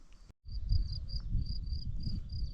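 Crickets chirp in short repeated pulses in a forest on a May evening over a steady low outdoor rumble, with a brief dropout near the start.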